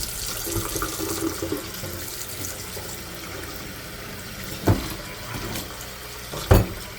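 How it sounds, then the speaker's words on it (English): Wine poured from a jar down a kitchen sink drain, a steady running liquid wash with two brief louder splashes near the end, no voices. "Pour this wine out down the drain."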